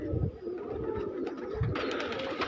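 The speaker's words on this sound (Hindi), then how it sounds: "ऐसे कबूतर हैं ये।" Pigeons coo softly nearby in low, throaty bursts, two distinct coos standing out against a steady murmuring background.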